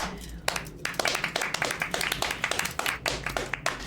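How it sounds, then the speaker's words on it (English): A family claps hands together in a sitcom scene, the claps irregular and fairly close, with voices mixed in beneath them. "Why are we clapping?"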